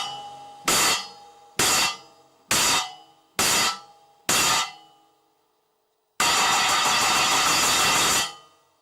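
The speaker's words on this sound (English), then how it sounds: "if you're wanting to choke this cymbal, this is how it would sound" A cymbal on a drum kit struck five times in an even rhythm, each crash cut short by a hand choke, followed by one longer sustained crash that rings for about two seconds before being damped. The hits are close and loud, with no voices.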